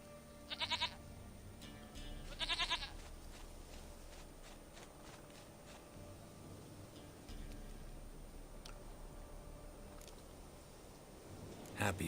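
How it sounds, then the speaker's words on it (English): A goat bleats in The Witcher 3, with two short bleats near the start and another at the end, set over a steady game ambience and faint footsteps. "Goat of mine, dearest,"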